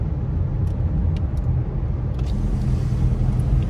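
Car driving on a foggy road alongside a lake near Big Bear, California, a steady loud low rumble of engine and tyres from inside the cabin with no breaks.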